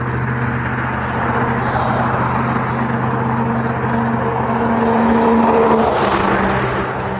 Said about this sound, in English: A lot of traffic going by